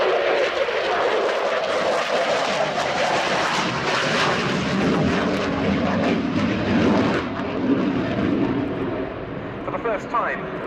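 Sukhoi Su-27P fighter of the Ukrainian Air Force flying a display at the RIAT 2017 airshow, a loud continuous broadband jet roar that swells and holds steady throughout, with a commentator's voice running over it.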